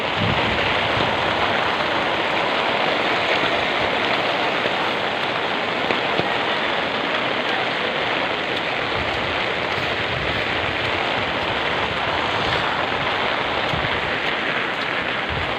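Heavy rain pours steadily and loudly throughout, a dense continuous roar driven by strong wind, with no voices.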